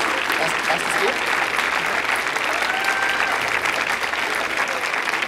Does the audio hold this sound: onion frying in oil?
no